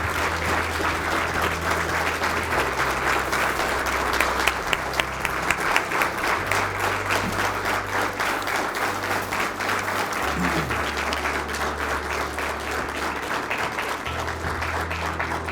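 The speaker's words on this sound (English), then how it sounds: "I know we just did a loud round of applause" A retirement ceremony audience gives sustained applause, a dense steady wash of many hands clapping throughout, with a low hum and faint voices underneath.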